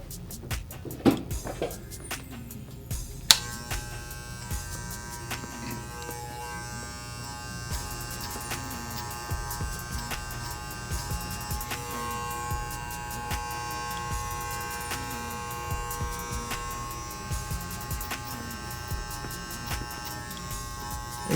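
Hair clippers buzz in a continuous close hum while cutting a high skin fade at a barber's chair, with a few clicks and taps at the start, steady throughout with no talking.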